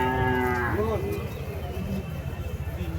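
Cattle at a livestock market moo loudly and close by, one long low call that bends and fades within the first second, followed by crowd murmur and background bustle.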